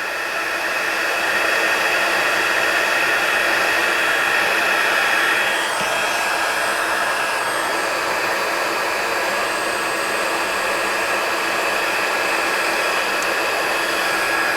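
A heat embossing tool blows hot air onto gold embossing powder in a continuous loud, breathy whoosh, close and steady for the whole stretch, with no voices.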